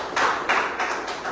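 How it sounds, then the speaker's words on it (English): Audience applause at an academic symposium in Abuja, a steady wash of hand claps with no talk that swells in bursts and carries on for the full stretch. "Put your hands together very well."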